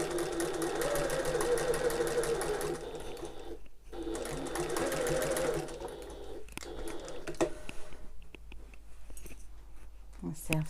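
A sewing machine stitches a tote bag in steady whirring bursts near the mic, with short pauses between runs and a break in the middle.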